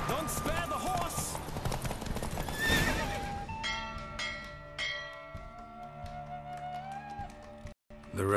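In The Witcher 3: Wild Hunt, a horse whinnies loudly over rhythmic galloping hoofbeats during a race, with bells and layered game-style effects swelling around it, ending in a brief dropout.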